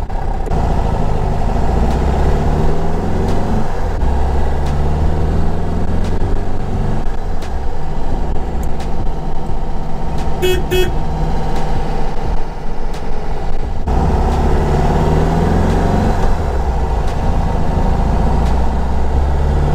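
A 1961 VW Beetle convertible engine drones steadily while driving, a low continuous rumble heard from inside, with a short clicking sound partway through and no talking.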